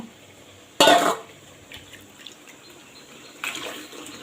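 Tamarind water being strained: two short bursts of liquid splashing and pouring, separated by a quiet stretch with light kitchen clinks.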